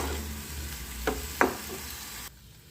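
Chhana filling being stirred into melted jaggery in a pan makes a low, steady sizzle with two sharp spoon scrapes against the pan, before the sound cuts off abruptly.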